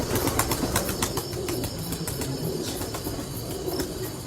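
Champion breeder's home-raised pigeons on a rooftop loft, with a steady mix of soft cooing, shuffling and wing flutters under a continuous low rumble, fairly close and moderately loud throughout.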